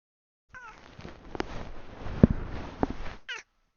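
A pet cat meows indoors, several short close calls with rising and falling tones, ending in a brief final cry.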